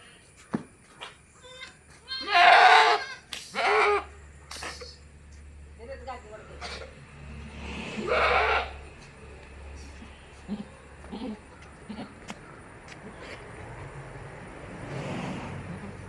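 Large, well-fed crossbreed goat, mother of two six-day-old kids, bleating loudly several times in separate calls, with a few softer cries and talk in between.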